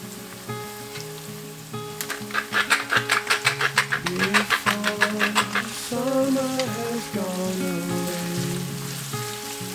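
Bite-sized pork sizzling and being stirred in a hot pan with chopped green onion and ginger, with a rhythmic run of scraping strokes partway through and a steady frying hiss throughout.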